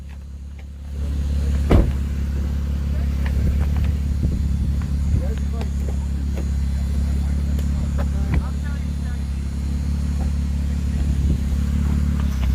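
A car pulling up and parking, heard as a steady low engine rumble up close with a few small clicks and knocks, and people talking over it.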